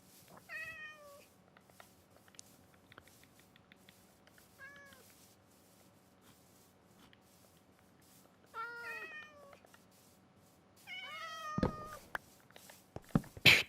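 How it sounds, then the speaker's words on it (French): Cats meowing in the video game Minecraft, several separate falling meows spaced across the clip, fairly clear over a low steady background hum, with a louder cluster near the end. "Pourquoi tant de violence envers les chats?"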